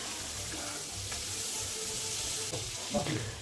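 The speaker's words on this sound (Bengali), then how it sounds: "এবার আমি যোগ করে দিচ্ছি ভেজে রাখা সবজিগুলোকেও মশলার সাথে কিছু দেব।" Fried vegetables and spices cooking in a pan for thin mung dal, a steady broad sizzle that holds throughout, with a few soft stirring knocks and a brief clink near the end.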